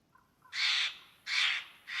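A bird caws in DayZ, giving two loud harsh caws and the start of a third at a steady rhythm, close and clear after a faint softer call, with no talk.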